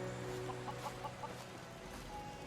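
Video-game chickens on a farm cluck in a quick series of short, soft, evenly spaced calls over a steady background hum, fairly faint and without voices.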